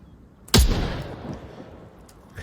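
A single sharp sniper rifle shot in a VR shooter, loud and close, with a ringing tail that fades over about two seconds.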